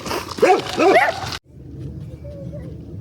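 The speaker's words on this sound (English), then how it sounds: "you gotta love cute little neighbor dogs" Small neighbor dogs yipping and barking close by in a short burst of high, whiny yelps, followed by a quieter stretch of background hum.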